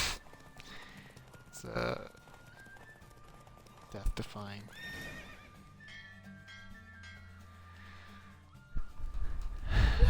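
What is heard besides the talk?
horse racing hooves and neighing in video game The Witcher 3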